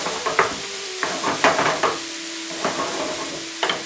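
Finely chopped onion frying in a pan over medium to medium-high heat while being cooked for a chicken bharta, with a steady sizzle and repeated scraping stirs of a utensil against the pan, close and clear with no talking.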